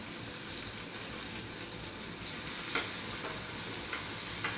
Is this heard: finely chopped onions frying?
yes